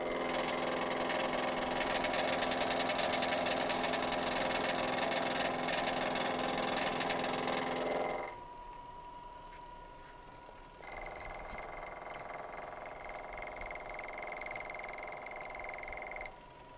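Manual knee milling machine making a cut into a metal block, a steady loud mechanical hum and chatter for several seconds, then a lower motor drone with a faint whine.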